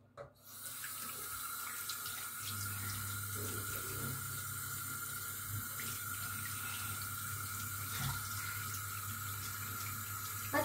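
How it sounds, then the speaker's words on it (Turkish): Steady running water from a sink tap splashes over hands being washed, a continuous close hiss and patter that holds evenly for about ten seconds with no talking. "Ellerini mi yıkıyorsun?"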